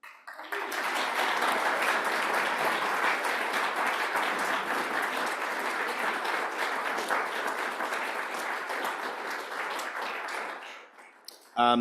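A lecture-hall audience claps enthusiastically as two speakers, Maureen O'Neil and author Ian Smillie, take the stage: dense, steady applause lasting about ten seconds before fading out abruptly.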